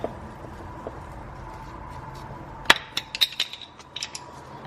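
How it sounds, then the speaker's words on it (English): A flathead screwdriver pries the cap off the belt tensioner bolt on a BMW E70 X5 4.8i: a sharp metallic click, then a quick run of small taps and clinks close by over a low engine-bay hum. "Just use a flathead screwdriver and wedge it in"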